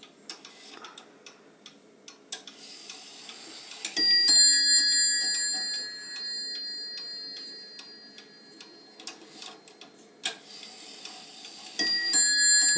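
An antique clock with intarsia inlay strikes the hour, each ringing chime-bell stroke sustaining into long overtones with soft ticking between, close and clear with no talk.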